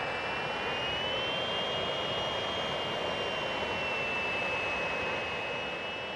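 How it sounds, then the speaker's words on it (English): A Fouga Magister CM170 jet trainer in a flight simulator runs with its canopy open, making a steady, continuous engine roar with a high sustained whine layered on top, with no break or talk. "With the canopy open, you can hear the change in engine note,"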